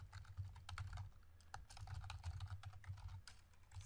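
Quiet, rapid typing on a computer keyboard, with an irregular run of key clicks and steady low background hum throughout.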